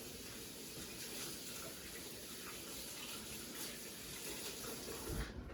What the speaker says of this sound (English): just going to do a quick rinse.